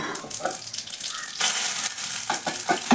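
Tomatoes dropping into hot oil for a Telugu tomato pickle, giving a steady broadband sizzle and crackle with a few louder spitting bursts partway through, close and continuous with no talking.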